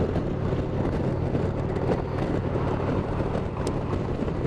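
An Indian Roadmaster motorcycle cruising at 70 mph, about 2,700 RPM, makes a loud, constant rumbling drone mixed with wind roar that stays even and unbroken throughout.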